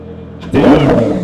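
A Lamborghini engine revs up hard after a brief quiet idle, a sudden loud, raspy surge that holds strong and close for the rest of the moment.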